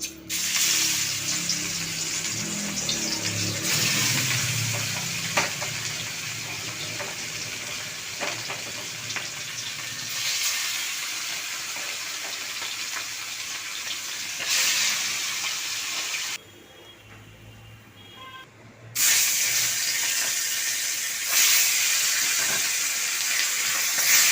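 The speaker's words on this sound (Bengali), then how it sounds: "আমার তেল গরম হয়ে গেছে আমি এবারে একে একে মাছগুলো দিয়ে দিই" Pieces of spice-coated rohu fish fry in hot oil with a steady, loud sizzle for over twenty seconds. The frying briefly drops away before returning just as strong.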